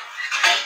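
A metal lid clatters onto a cooking pan holding raw potato patties being steamed, a brief bright clink and rattle that swells and fades within a second.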